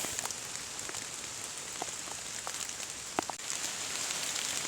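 Steady rain patters on leaves and surfaces in a woodland during mushroom picking, with occasional louder drips and light rustling, and no talking.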